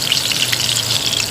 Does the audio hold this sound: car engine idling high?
no